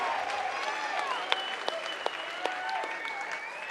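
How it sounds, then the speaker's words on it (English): Crowd applause at the end of a catchweight 150-pound MMA bout, with dense clapping and cheering from a large audience and a few sharper claps standing out. Voices and whistles carry through the noise. "let's one more time give both of these fighters a huge round of applause for a great fight"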